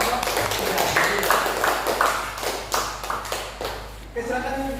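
Classroom applause for a student discussion group: a small group clapping in uneven bursts close by, with a voice speaking briefly near the end as the clapping fades.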